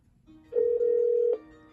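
A gray Cisco 8865 IP phone ringing close by, one sustained electronic ring tone of just under a second with a faint pre-tone, clean and fairly loud with no talk.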